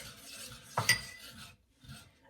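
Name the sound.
whisking spices together with a whisk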